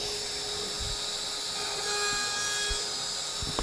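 A CNC router with a 3/8 inch bit makes its final cutting pass through 1/2 inch material, giving a faint, steady spindle whine with soft scraping underneath.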